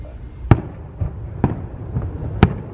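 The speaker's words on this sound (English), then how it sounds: "Those are some big fireworks." Fireworks test shells bursting over Magic Kingdom, heard from across the water at a resort: several sharp, distant booms spaced irregularly about a second apart, each with a rumbling tail, and no talking.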